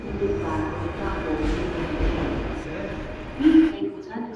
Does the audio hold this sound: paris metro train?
yes